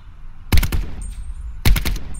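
Two short, loud bursts of automatic gunfire from Call of Duty: Black Ops 4, about a second apart, each with a sharp attack and a quick reverberant tail.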